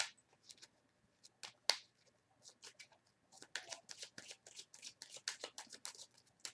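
Tarot cards are shuffled and handled in quick, soft riffling bursts, sparse at first and then a denser run of close, light slaps and rustles, with no talking.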